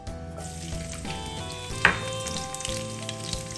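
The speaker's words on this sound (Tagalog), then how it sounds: "Ang una kong gagawin, magigisa lang ako ng maraming bawang." Plenty of garlic sautéing in a clay pot, a continuous close sizzle and crackle with a sharp spatter burst partway through, no voices.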